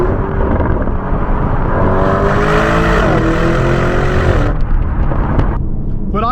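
Lamborghini Urus V8 engine accelerating from inside the car, a loud sustained roar rising in pitch through a gear change, then a sharp drop as the throttle lifts.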